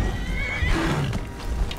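A horse whinnies in the video game Skyrim, a short, fairly loud neigh over busy background game noise, with no talking.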